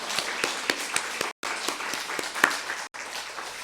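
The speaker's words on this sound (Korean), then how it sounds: "죄의 짐을 벗게 해주신 우리 예수님께 박수로 영광을 돌리겠습니다." A church congregation claps during Sunday worship: a short burst of sparse, faint clapping with a few sharper individual claps standing out, broken by two brief dropouts.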